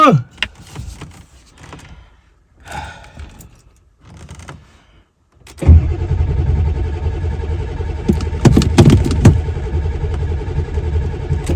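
A 1996 Ford F250 diesel engine with no working glow plugs is cranked over and then catches. Quiet clicks and shuffling come first, then a steady loud engine drone sets in at about the midpoint and keeps going to the end.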